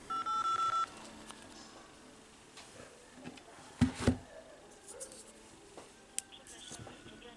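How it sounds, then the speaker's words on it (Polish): Phone dialing tones come through a Jabra BT2045 Bluetooth headset, one short steady keypad beep at the start, then quiet clicks and faint handling noises under a low hiss. "wybieramy jakiś numer"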